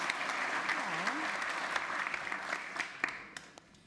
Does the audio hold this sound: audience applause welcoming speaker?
yes